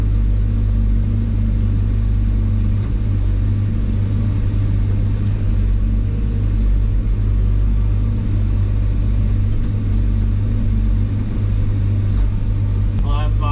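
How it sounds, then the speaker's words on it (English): A truck idles and rumbles at a construction site, a steady low engine drone holding close and loud throughout with faint clatter and brief ticks near the end. "Well, I finally got my first truck of the day."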